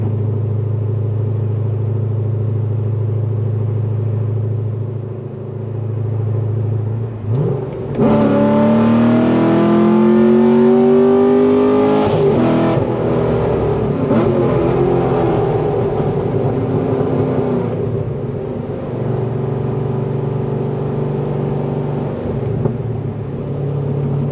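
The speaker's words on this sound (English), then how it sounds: "I will show you what third gear sounds like." A cammed, catless Corvette Z06 engine drones steadily, then roars louder as it revs up through a rising sweep in third gear, easing back to a steady drone, heard from inside the car.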